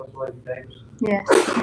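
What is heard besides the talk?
sneeze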